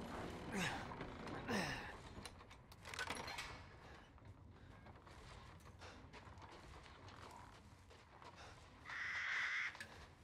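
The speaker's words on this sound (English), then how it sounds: "Crows." Crows caw in the video game Resident Evil Village, a few harsh calls early on amid faint ambient game sounds, creaks and mechanical noise, moderately distant and not loud.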